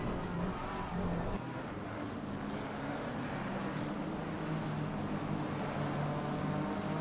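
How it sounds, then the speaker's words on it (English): Continuous roar of a BMW GT3 race car engine at Paul Ricard circuit, steady and loud throughout with a droning tone, no talking over it. "He's trying to reel in Krawiec in that BMW"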